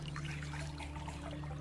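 RO water is poured into a glass holding green tea, a soft, quiet trickle of liquid running steadily for a moment under a low background hum.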